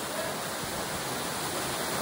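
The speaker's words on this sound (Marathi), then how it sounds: "2 मंदिरांच्या मधून पाणी जात आहे" Water rushing steadily between two temples at Khavale Mahaganpati, Ganpatipule, a continuous broadband roar that stays close and even throughout, with no voices.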